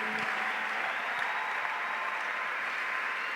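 A church congregation applauds and cheers to acclaim the Lord, a broad steady wash of clapping and crowd noise from a room full of people, with no speech over it.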